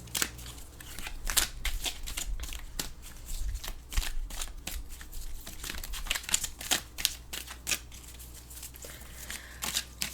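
An Archetypes Oracle card deck is shuffled close by in a quiet room, the cards making rapid, crisp riffles and slaps in quick bursts with short pauses between them.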